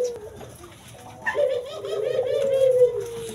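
Turtle doves in a breeding cage give a soft, low cooing that swells after a quiet start and carries on steadily at close range, with a faint background murmur.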